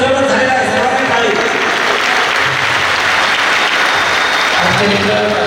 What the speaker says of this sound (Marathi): सर्वांनी टाळी.